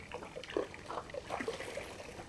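A sponge is lifted out of a bucket of rinseless car wash solution, water trickling and dripping back into the bucket in short, close splashes.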